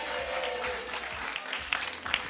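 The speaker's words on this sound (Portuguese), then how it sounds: "Palmas pra ela." Audience applause for a correct answer at a quiz segment of a talk, a steady wash of clapping from a modest crowd, moderately faint and continuous with a few sharper claps toward the end.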